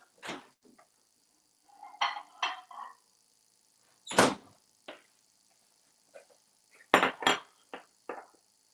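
Spoon clinking and scraping against a bowl while stirring a vegan chocolate mix, a series of short, sharp metallic taps and scrapes spaced irregularly, close and fairly quiet, separated by near silence.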